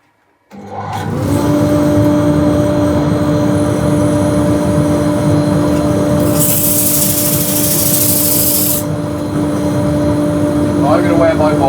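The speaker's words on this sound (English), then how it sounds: "So dust extraction on, of course." Dust extraction system in a woodturning workshop starts up and runs as a loud, steady drone, joined midway by a brief louder hiss of rushing air.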